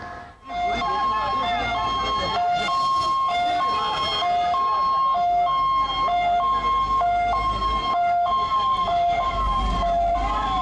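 A loud, continuous wailing fire engine siren cycles steadily up and down, close and unbroken, with a low rumble of traffic beneath, at a cylinder blast in Dharavi, Mumbai.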